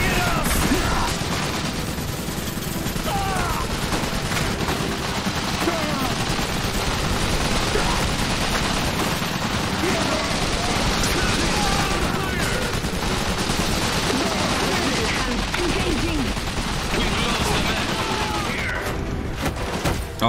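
Gunfire from enemy units in the real-time strategy game Iron Harvest, a steady, dense crackle of rifle and machine-gun shots with occasional booms, sustained and moderately loud throughout under battle noise.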